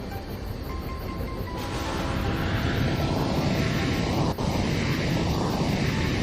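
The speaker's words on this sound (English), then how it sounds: "There's a plane flying overhead." A plane passes overhead in the train-management game Tiny Rails, a steady broadband engine drone that swells and stays loud over a continuous rumbling background, with a brief dip midway.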